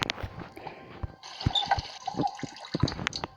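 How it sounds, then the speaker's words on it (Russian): Water pouring into a bucket in a horror video game, with a short run of splashing and trickling liquid mixed with small drips and clunks, close and moderately quiet, lasting a few seconds. "Так, набрали воду."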